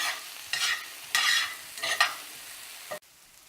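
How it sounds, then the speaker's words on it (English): Onions cooking down in a cast iron skillet, stirred in several bursts of scraping and sizzle with a steady frying hiss between, close and fairly loud, ending abruptly. "Give it another stir. And we're going to allow these to continue to cook down"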